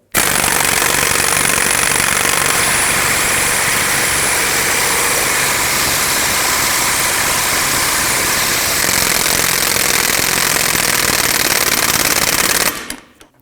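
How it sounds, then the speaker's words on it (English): A hydraulic ball joint press forces a new lower ball joint into the steering knuckle of a 2008-2010 Ford F-250, a loud, steady mechanical pounding and grinding that runs continuously for about twelve seconds before cutting off abruptly. "let's tighten it up, and we'll press it till it goes all the way down and stops moving"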